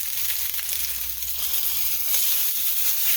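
Wild-caught tuna steak sears in a hot pan just after being flipped, giving a steady, close, broadband sizzle that holds for the whole stretch and swells slightly toward the end, with no voices over it.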